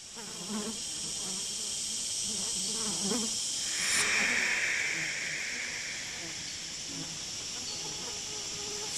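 Mosquitoes swarming in a dense Florida Everglades swamp forest strand, a continuous high insect whine filling the air with a louder buzzing swell in the middle, close and steady, with faint voice-like sounds early on.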